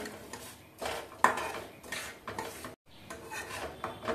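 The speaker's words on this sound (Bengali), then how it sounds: "আমি ডালটা ভেজে নিচ্ছি।" Washed moong dal with cardamom dry-fries in a pan, a spatula scraping and stirring the grains in close, uneven rubbing strokes with one sharp metallic knock.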